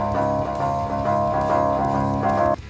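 Electric guitar riff doubled by a bass line from a Nano POG octave pedal, a thick, loud, steady sustained tone with deep low-end layers, played through an amp and cutting off abruptly near the end.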